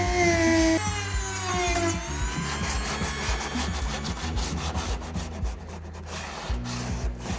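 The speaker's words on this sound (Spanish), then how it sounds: "me pillo la mascarilla, la Dremel y nos ponemos a meter el corte" A Dremel rotary tool cuts through a plastic car bumper on a World Rally Car build, giving a loud, continuous grinding and rasping rub with shifting pitch throughout.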